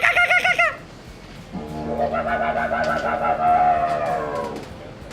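A person imitates a kookaburra, first with a quick high warbling burst, then a longer rising, laughing, cackling call.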